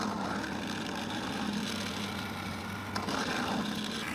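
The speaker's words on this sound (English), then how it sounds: "I start with a 20 millimeter drill in the 4 sharpest corners." A 20 millimeter drill bores into a wooden bowl blank, giving a steady, continuous motor whine with a grinding bite in the wood that holds for the whole stretch at fairly close range.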